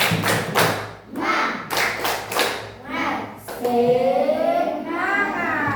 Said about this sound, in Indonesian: Sekali lagi dulu. Tepuk semangat.